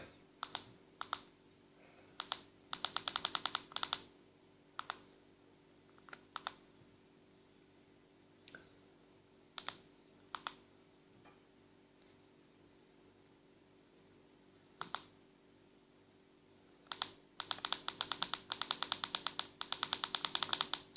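Keys clatter on a computer keyboard in short, irregular bursts separated by pauses, ending in a longer rapid run of typing, close and fairly quiet.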